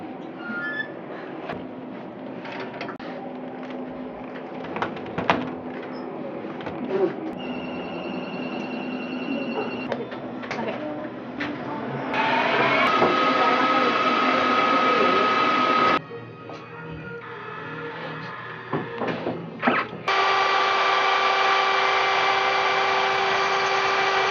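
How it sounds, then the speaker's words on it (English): A lathe in a middle school workshop turns a piece of plastic. Its motor gives a sustained whining hum in long stretches, with a short drop in the middle, over faint background activity. "This is a piece of plastic we're using, and I'm going to put it in the lathe."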